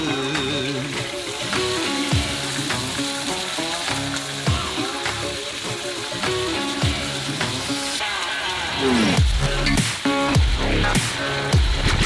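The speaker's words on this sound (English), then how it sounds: "put it on the stove and let it cook for about 4 to 6 minutes on each side of the tilapia" Marinated maple-glazed tilapia fillets fry in a pan on a stovetop, giving a steady, loud sizzle and spatter throughout, with occasional stirring or scraping sounds and no voices.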